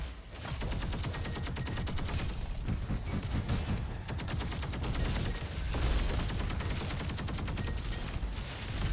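Heavy weapon fire in the robot shooter Roboquest, a dense, relentless stream of rapid shots and mechanical clatter, loud and continuous throughout with no talking.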